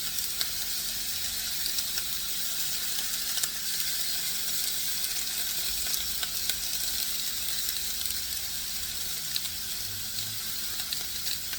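Steaks seasoned with smoked applewood sea salt sizzle steadily on a grill, a constant broad hiss with faint crackles running unbroken throughout, close and fairly loud with no voices.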